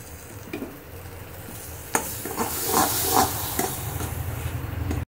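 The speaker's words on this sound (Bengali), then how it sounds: "দই দিয়ে ভালো করে কষিয়ে নিয়েছি।" Cauliflower masala with whipped sour yogurt sizzles in a wok as a utensil stirs it, with a sharp clink near two seconds and a louder burst of frying around three seconds. A steady low hiss runs beneath throughout.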